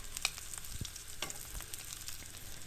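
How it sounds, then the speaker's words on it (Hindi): Cutlets fry in a pan with a faint, steady sizzle and crackle, a few soft pops and taps over a low background, heard close but quietly with no voices. "और उसके बाद मैंने ये कटलेट्स बना लिए थे और इनको मैं अब जो है वो फ्राई करने लगी हूँ।"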